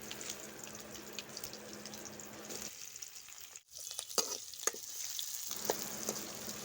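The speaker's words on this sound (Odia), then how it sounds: "କିଛି କାଟିକି ରଖିଥିବା କିଛି ପିଆଜ, ତାପରେ ଭୃଷଙ୍ଗ ପତ୍ରକୁ ମଧ୍ୟ ଏଠି ଦେଇଦେବ" Chopped onion and curry leaves fry in hot oil, giving a steady close sizzle with stirring and scraping, briefly quieting once before the hiss resumes.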